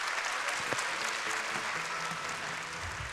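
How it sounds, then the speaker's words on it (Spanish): Audience applause at the close of a technology and business conference talk, a steady dense wash of many hands clapping throughout, fairly distant and even in level with no talk over it. "Fuerte estos aplausos"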